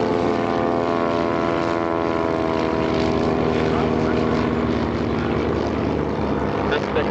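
Chipmunk warbird propeller planes roar steadily at close range as a group takes off from runway 36 at AirVenture, the engine drone loud and continuous.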